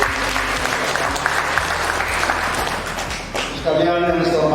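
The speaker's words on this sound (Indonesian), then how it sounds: "Tepuk tangan untuk" Attendees at a PGRI teachers' work conference applaud in a sustained round while a loud voice talks over it, and the clapping swells near the end.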